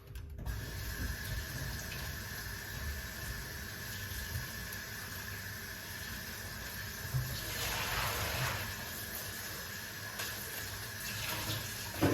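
A kitchen tap runs steadily while parsley is washed under it, a continuous close splashing rush with a few louder surges of water toward the end and no voices.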